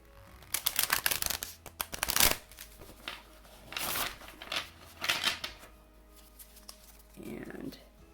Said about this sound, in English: Go ahead and try out some rifle shuffling here.